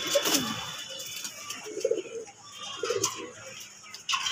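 Pigeons at an outdoor desi pigeon market give several low, soft coos in short bursts near the listener, over a light hiss of background market noise.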